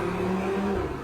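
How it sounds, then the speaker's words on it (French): Sports car engine in a street, a steady, close, loud hum with a slight rise in pitch as it accelerates gently, heard alone with no talking. "Je kiffe le son d'une voiture sportive dans les rues."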